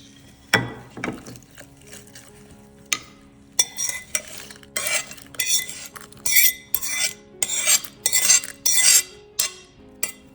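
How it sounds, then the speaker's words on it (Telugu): A spoon stirs a spice tempering into a red chili pickle two days after it was made, giving a run of close, rhythmic scraping and clinking strokes that grows steadier and louder in the second half, with no talk. "పోపుని మంచిగా కలిసేటట్టుగా పూర్తిగా నీట్గా మిక్స్ చేసుకోండి"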